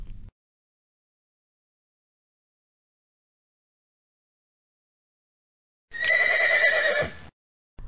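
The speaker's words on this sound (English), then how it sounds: "What can a horse do for us?" A horse whinnies loudly for about a second, a single clear neigh standing alone between stretches of silence, with only faint low thuds at the very start and end.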